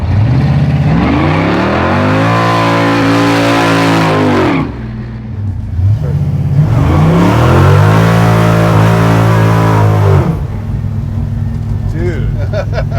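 A 700hp Dodge Coronet 440 Hemi old-school drag car revving hard twice, each loud rising blip holding before dropping off, with deep burbling idle between, very close.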